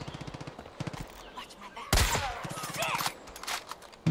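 Bursts of rapid gunfire from Far Cry 5 rattle in short runs, broken by a loud explosive blast midway, with game noise in the background and voices faintly present.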